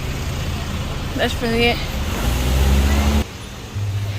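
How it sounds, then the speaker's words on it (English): Road traffic on the street beside Playa Portillo beach in Las Terrenas, Dominican Republic: vehicles rumble past at close range, with a rising engine drone and a brief higher whine. Someone talks over it. "see right now there's a bunch of traffic"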